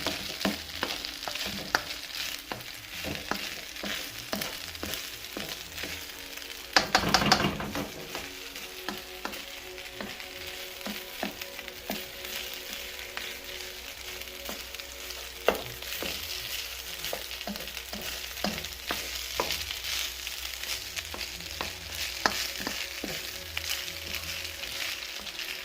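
Basmati rice with potatoes fries in a wok, a steady hiss of sizzling oil broken by frequent scrapes and clatters of stirring, with a loud burst of crackle partway through, heard close up with no talking.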